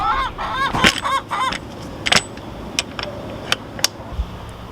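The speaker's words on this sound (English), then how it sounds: "We have a brown egg and some very loud chickens." Chickens cluck and squawk loudly up close in a series of harsh, uneven calls, with a burst of noisy squawking early on followed by scattered sharper cries.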